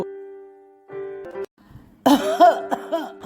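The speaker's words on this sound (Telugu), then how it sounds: "ఊరికి దగ్గుతూనే ఉంటావు" An older woman coughing at home, a few harsh bursts following tonal background sounds, close to the microphone with breathy, strained vocal rasps.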